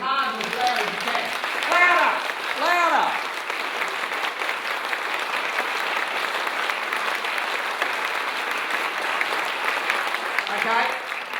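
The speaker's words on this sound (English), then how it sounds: "I want you all to clap like mad. Clap as hard and as loud as you can." A conference audience claps hard and loud on request, dense sustained applause at a technology talk, with a presenter's voice calling out over it at the start and end.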